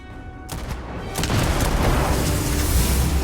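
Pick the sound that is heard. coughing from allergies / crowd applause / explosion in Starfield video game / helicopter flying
explosion in Starfield video game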